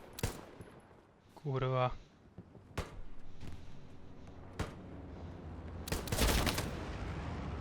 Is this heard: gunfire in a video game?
yes